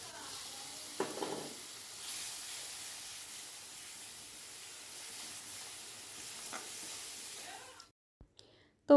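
Bhola fish curry with cumin powder cooking in a pan, a faint steady sizzle and hiss with a couple of light clinks, which cuts off to near silence at the end.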